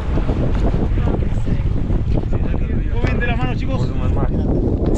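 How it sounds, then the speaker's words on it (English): Glacial river water slapping and splashing over a kayak bow in rain amid Patagonian white water, a constant loud rush with heavy wind buffeting the microphone and voices shouting or laughing over it. "A few waves came over the bow."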